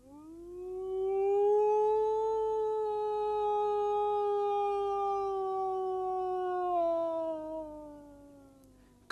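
A long, steady howl held for several seconds, rising slightly then slowly falling, a man imitating a wolf to call Russian wolves, clear and fairly close.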